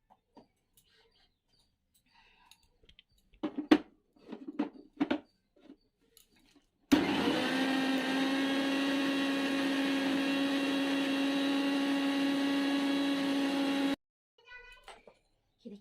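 A mixer grinder whirs loudly and steadily for about seven seconds, blending chili and sugar into a fine paste in a home kitchen, with brief clatter and handling noises before and after.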